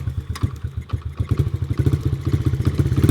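A dirt bike engine, kick-started after sitting more than five years, running close and loud with a rough, uneven thumping idle that steadies and grows slightly stronger.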